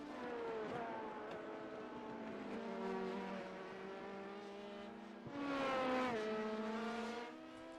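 Sports cars racing at Spa, a BMW M8 and an LMP2 prototype among them, with high-revving engines droning steadily and pitch shifting through gear changes, one car swelling louder as it passes close near the end.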